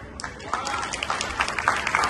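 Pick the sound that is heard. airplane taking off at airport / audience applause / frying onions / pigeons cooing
audience applause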